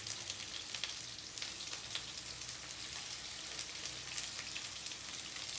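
Chicken frying in hot oil in a home kitchen, a steady crackling sizzle with scattered pops, continuous and fairly close, with no talking.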